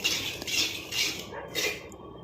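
A spoon stirs a dark homemade hair oil mixture made with dried curry leaves, giving three short scraping, clinking bursts of metal against a bowl at close range, with quiet pauses between them.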